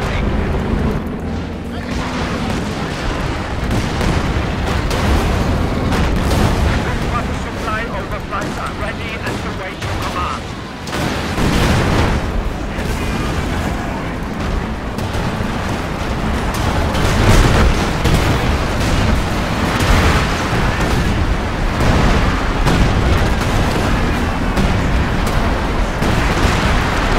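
Relentless artillery barrages and explosions in a Company of Heroes 2 three-versus-three battle, dense rumbling booms and crackling gunfire filling the whole stretch with players talking over the din.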